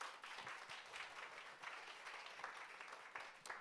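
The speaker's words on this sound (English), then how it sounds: "Give Atomy a big round of applause." Steady applause from a crowd, dense clapping that holds at an even level for a few seconds, somewhat distant and faint.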